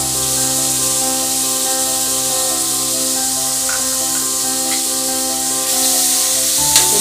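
Onions with turmeric and green chillies frying in a pan for a goat trotter paya, a steady loud sizzle with occasional stirring scrapes and a brief louder hiss near the end.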